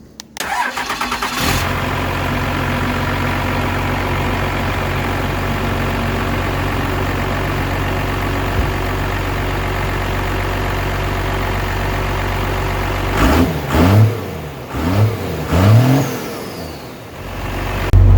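A large 12-valve Cummins diesel engine cranks and catches, then runs at a loud, steady idle before revving up several times near the end.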